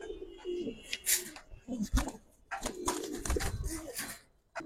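Giribaz and coloured pigeons coo close by in low, throaty bursts, with rustling and fluttering between the calls and a little background voice.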